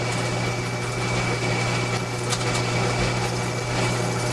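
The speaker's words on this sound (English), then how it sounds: "So that drill went through very quickly." A drill boring a hole through a workpiece held on a machine lathe, a steady, even mechanical whir with a constant hum and hiss throughout, close and unbroken, with no talk.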